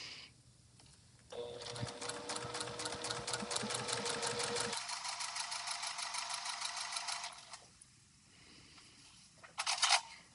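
A sewing machine running a straight stitch along a guide line, a steady rapid mechanical whir lasting several seconds, close and clear, then stopping, followed by a brief rattling burst near the end; no talking.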